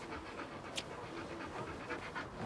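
A dog pants in quick, steady breaths at close range, the rhythmic huffing continuing without pause alongside a brief sharper sound partway through; no voices are heard.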